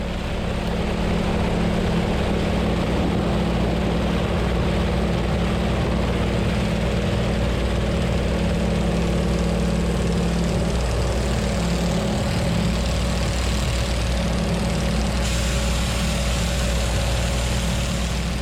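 A small propeller plane's engine roars loudly and steadily during takeoff from a narrow airstrip, a continuous droning hum with no voices.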